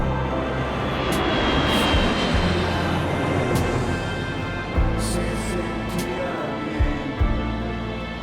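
A fixed-wing airplane flies overhead with a loud, sustained engine roar throughout, and several brief thumps and knocks sound close by.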